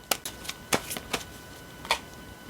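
Tarot cards are shuffled close by in a few soft, scattered flicks and snaps over a quiet background. No one speaks.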